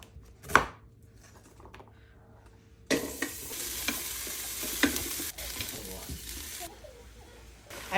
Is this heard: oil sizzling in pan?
yes